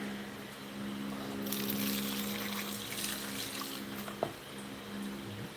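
Water poured from a container onto the floor of a grow tent before any soil goes in, a steady broad wash of splashing and trickling that swells after the first second, with a hum running underneath and a brief knock near the end.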